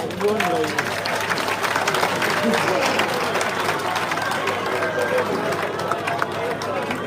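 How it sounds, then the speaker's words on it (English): An audience applauds candidates at a Kawempe North parliamentary debate with continuous crowd clapping and murmur, while voices talk over the noise throughout. "Let's clap for all the candidates for Kawempe North. Please clap louder."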